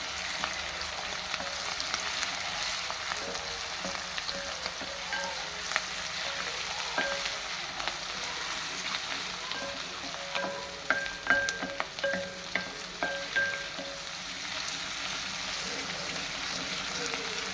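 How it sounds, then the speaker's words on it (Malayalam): Ginger, green chillies and curry leaves sauté in a hot pan, a continuous close sizzle with occasional stirring scrapes and crackles over the frying hiss. "ഇഞ്ചി പച്ചമുളക് ആ അണ്ടാരിമുളക് ഉണ്ടെങ്കിൽ അതും ചേർക്കാം കറിവേപ്പില ഇതൊന്ന് നമുക്ക് വാട്ടി എടുക്കണം"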